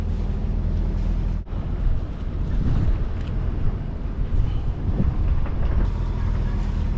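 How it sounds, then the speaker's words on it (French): A sailboat motors under engine power on calm sea with little wind, its low steady engine drone running throughout under gusts of wind noise on the microphone. "On s'éloigne toujours au moteur."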